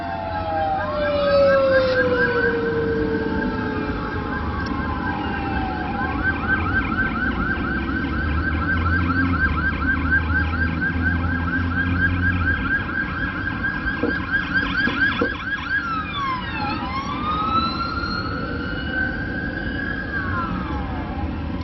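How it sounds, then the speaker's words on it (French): Fire engine sirens wail outside for a sustained stretch, the rising and falling tones sweeping loudly as the trucks pass, with a second siren pattern cutting in toward the end. "on attendait que les pompiers passent pour éviter que tout ce bruit-là ne rentre"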